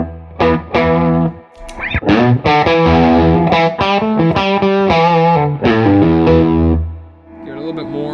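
Heavily distorted electric guitar through a tube amp pushed by a clean boost pedal plays a series of loud sustained chords and notes, thick and saturated, with brief pauses between phrases.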